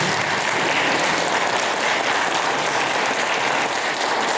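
Wedding guests applaud the newlyweds Bugner and Beatriz just pronounced husband and wife, a loud, even, continuous roar of clapping from a full room with no voices over it.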